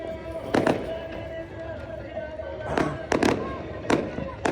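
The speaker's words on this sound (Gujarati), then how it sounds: "ચલો અત્યારે મોટી આતશબાજી થવાની છે" Fireworks pop and crackle in several sharp bursts, some close together, during an Uttarayan night celebration in Gujarat, over a noisy outdoor background with voices.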